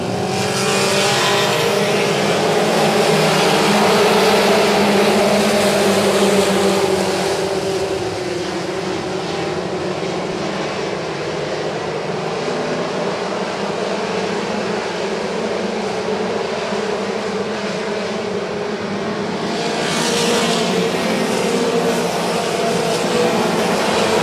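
Mini mod race cars roar around a dirt oval during a championship race in southern Ontario, a loud continuous engine drone with a swelling pass near the end.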